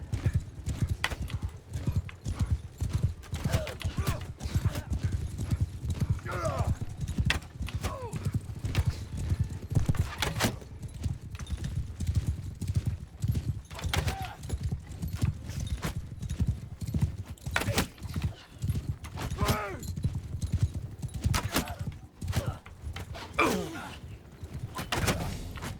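Horse archers gallop in the Mount & Blade II: Bannerlord video game, with continuous rapid hoof clip-clop, occasional whinnies and dull thumps throughout, a busy steady clatter.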